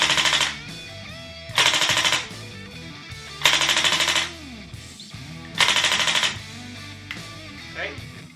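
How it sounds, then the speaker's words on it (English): A VFC M249 gas blowback airsoft machine gun, converted to HPA, fires four or five short, loud bursts of rapid rattling shots with quieter gaps between them. "let's take some quick shots."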